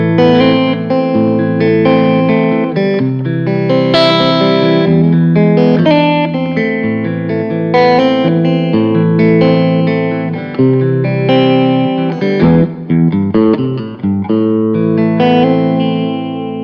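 An electric guitar on its single-coil pickup plays a chordal, melodic passage with a clean, bright, slightly glassy tone and some effects shimmer, loud and continuous with no talking.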